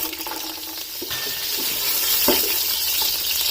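Garlic cloves dropped into hot desi ghee in a pan while making mutton mandi, a loud continuous hiss and crackle of frying with a few sharper pops, no voices.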